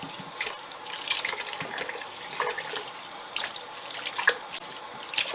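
Tap water runs steadily over celery in a kitchen sink, rinsing dirt off with a continuous splashing hiss and occasional drips, no voices.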